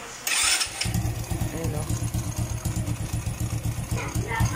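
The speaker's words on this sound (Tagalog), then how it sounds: "Kala nyo maingay yung makina pero sa tambutso po yan" A motorcycle with a leaking exhaust gasket starts up and settles into a loud, rapid, pulsing putter at close range, the exhaust chuffing in an uneven rhythm while someone speaks briefly.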